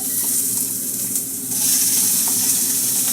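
Chopped sausage sizzles and crackles steadily in a hot pan, a continuous close frying hiss that grows louder partway through as the pan heats up, with no voices.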